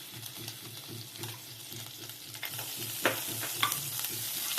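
Butter melts in a hot kadai on the stove for a sweet corn kurma, a soft low crackling sizzle with a few small sharp pops, close and fairly faint with no voices.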